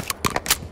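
A magazine reload in Modern Warfare III, a quick sequence of three or four short metallic clicks and clacks close up within under a second.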